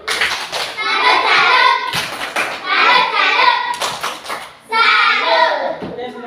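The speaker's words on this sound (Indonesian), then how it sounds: "aplaus kepada teman-teman kelompok 3" A classroom of children claps for group 3 in bursts of rhythmic applause with brief pauses, mixed with young voices calling out.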